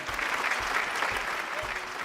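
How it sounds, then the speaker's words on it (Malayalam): Studio audience applause greets the anchor of a Malayalam TV game show, a steady wash of many clapping hands sustained throughout at moderate loudness. "നല്ലൊരു കയ്യടി"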